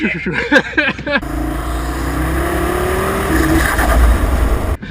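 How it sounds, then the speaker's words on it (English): A loud stage 1.75 tuned Audi RS3 engine revs and pulls hard with a rushing intake roar and turbo flutter, preceded by a brief burst of voices and cut off abruptly at the end. "that intake sounds addictive. Oh, the turbo flutter?"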